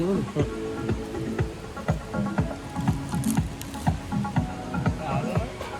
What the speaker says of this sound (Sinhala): දැන් වැස්ස සැර වෙනවා.